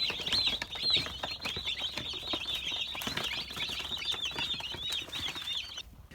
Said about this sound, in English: every time they make that sound with their beaks when they pick up some of the feed